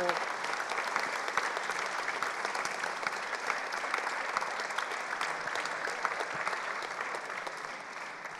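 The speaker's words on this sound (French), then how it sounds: "Non, il n'y a pas eu assez d'applaudissements là," Applause from a large audience at a civic service plenary session, honoring volunteers who stood up; steady, dense clapping fills the room at a moderate level throughout with no gaps.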